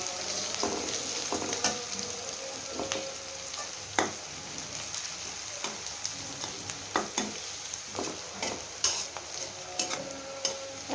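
Onions frying and being stirred in a pan for a Bengali pangas fish rezala, with a steady sizzle broken by sharp spoon scrapes and clinks at irregular intervals, close and alone without voices.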